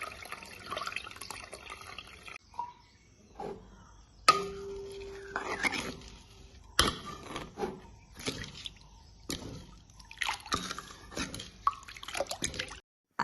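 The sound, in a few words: milk being strained through a sieve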